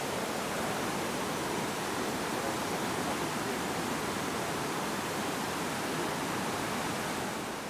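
The Chegem waterfalls pour over rock in a mountain gorge in Kabardino-Balkaria, a dense, unbroken roar of rushing water that stays loud and even throughout with no voices.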